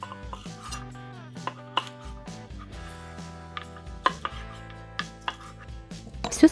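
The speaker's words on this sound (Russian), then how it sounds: "Остывшие ребрышки нарезаем на порционные куски." A knife chops cooled pork ribs into portions on a board, giving a run of sharp, close chopping knocks at an uneven rhythm with faint clatter in between and no talking.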